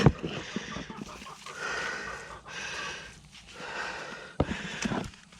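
Chickens in a coop cluck and snort in scattered short bursts, fairly close and moderately loud, with a sharper squawk partway through and no one speaking.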